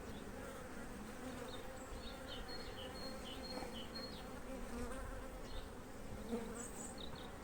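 Dense, continuous buzzing of many honeybees swarming close by around a hive during April hive inspection, steady and unbroken with no voices.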